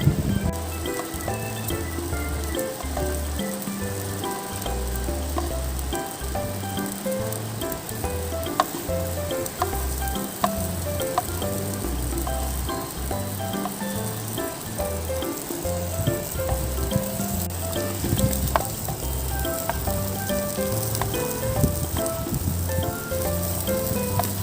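Catfish grills over heat, a dense steady crackling sizzle running throughout, close and even, with a faint low rhythmic background and no clear talking.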